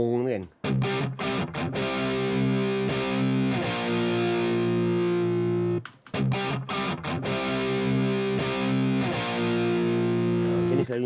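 An electric guitar through a distortion effect plays thick, sustained overdriven chords in two phrases with short pauses, loud and close during a recording lesson.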